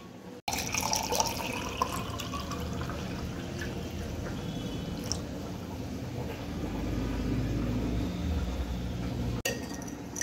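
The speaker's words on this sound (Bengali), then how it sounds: "এর মধ্যে দেব ঠান্ডা জল।" Cold water poured into a glass holding rock sugar, a steady liquid trickle and splash running for several seconds close by, with a brief pause near the end and no talking.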